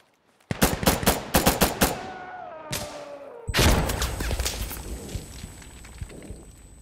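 Rapid automatic gunfire in Insurgency Sandstorm crackles in a tight burst of sharp cracks, then a lone shot, followed by a heavy blast with a lingering rumble and a thin ringing tone, loud and close.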